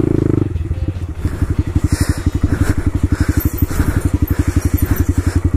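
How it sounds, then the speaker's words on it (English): A Honda Grom motorcycle's small engine runs close by in mud: a steady, fast, throbbing exhaust pulse that stays even and loud throughout after a brief rougher start, with no talking. "I should restart the bike, really."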